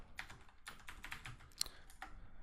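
Fast, steady clatter of computer keyboard keys being typed, close and fairly quiet, with no talking.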